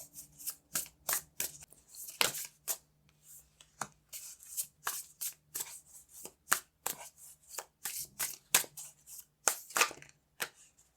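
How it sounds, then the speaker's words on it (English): Tarot cards shuffled and pulled from the deck in a quiet room, a long run of quick papery riffles and slaps in an uneven rhythm, close and fairly soft with no voices. "So I'm going to pull out some more cards, see what else they see"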